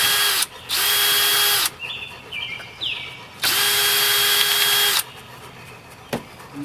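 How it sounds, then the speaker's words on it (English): A power drill spins in two long, steady bursts as it backs screws out of house paneling outdoors, with brief lower-pitched whirs and clicks between the runs. "So we're going to take these screws out."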